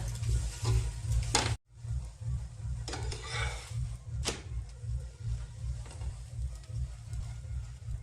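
Puran poli, a sweet stuffed flatbread, fries in oil on a hot griddle, giving a constant close sizzle with occasional scrapes and brief knocks and no talking.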